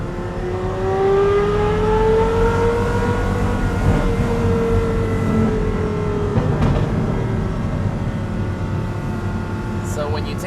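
A Porsche Carrera GT's V10 engine revs close by, its pitch climbing and sliding in smooth sweeps over a continuous mechanical roar, with some voice in the mix.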